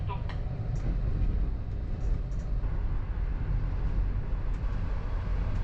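Onboard an LTG Link or PKP InterCity train running from Vilnius past the Polish border toward Białystok, a continuous low rolling rumble fills the carriage, with faint indistinct sounds over it.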